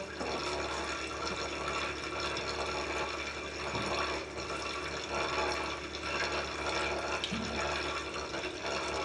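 Apple juice pours into a fermenter for homemade cider, a continuous splashing, gurgling flow of liquid that stays loud and steady from start to finish.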